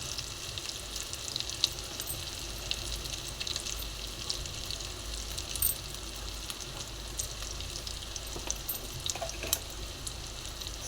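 Ginger sizzles and fries steadily in a hot pan for egg curry, a dense continuous crackle with occasional stirring scrapes, close and fairly loud, with no voices.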